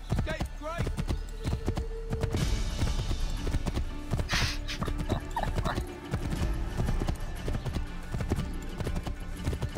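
Horse hooves clip-clop steadily at a trot in Assassin's Creed III, with a brief whinny near the start, amid a busy game soundscape and voices talking.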